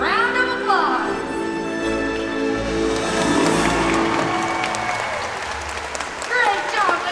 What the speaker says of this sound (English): I want you guys to give him a nice big round of applause.